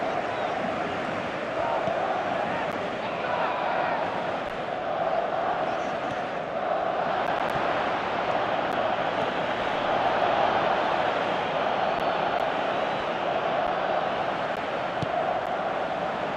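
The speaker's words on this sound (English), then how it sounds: "Crowd appreciates good football all round there." A large stadium crowd in the football game PES 2017 fills the air with a continuous roar and chanting, steady and full throughout, with no distinct talking.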